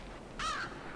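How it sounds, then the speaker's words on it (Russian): A single crow caw rings out in the video game Limbo. The call is short and harsh and stands out clearly over a quiet, low ambient background. "тут ворона"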